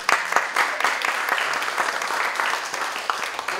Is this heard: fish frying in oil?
no